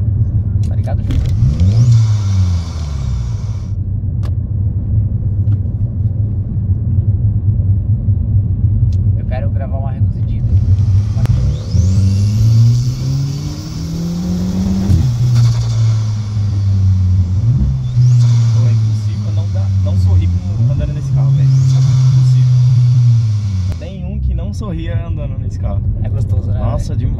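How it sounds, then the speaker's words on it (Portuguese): Volkswagen Jetta turbo with a DSG gearbox revving hard, its engine note climbing and dropping sharply at each quick gear shift, several rising sweeps in a row heard close and loud while people talk over it. "É o som da troca de marcha, que é uma das partes mais legais do DSG"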